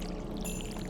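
A watering can pouring over crops in the farming game Stardew Valley, a brief steady splashing pour heard alone.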